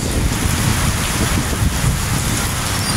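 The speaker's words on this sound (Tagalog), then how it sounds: "Maraming na-stranded sa sobrang lakas ng hangin" Strong wind roaring outdoors in a storm, a dense continuous rush with heavy low buffeting against the microphone, loud and unbroken, no voices.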